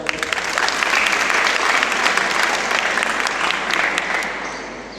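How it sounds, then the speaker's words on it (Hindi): A large audience at a college event breaks into loud, continuous applause that builds quickly, holds steady, and then fades toward the close. "मालूका सर के लिए भी एक बार जोर से तालियां हो जाए"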